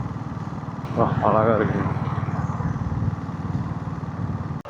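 A diesel Royal Enfield Bullet motorcycle thumps along at a steady, low, pulsing beat while riding, and someone briefly speaks over the engine.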